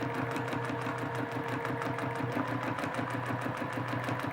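A sewing machine stitches free-motion scribble quilting in a fast, steady mechanical rhythm, close and continuous throughout with no talking.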